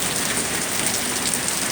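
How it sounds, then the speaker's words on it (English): Heavy rain pours down hard during a severe thunderstorm, a dense, loud, unbroken roar of drops drumming on surfaces close by. "It is pouring, look at that."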